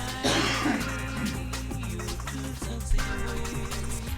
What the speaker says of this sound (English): excuse me, I have to cough.